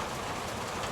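Steady rain falls outdoors in a dense, even hiss that stays constant throughout, with no voices or other sounds.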